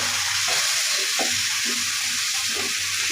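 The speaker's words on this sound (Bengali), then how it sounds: "মশলাটা কষিয়ে নিব।" Turmeric and chili powder frying in a pan with onion and green chili, giving a steady, close hiss of sizzling oil with faint scraping stirs, no voices.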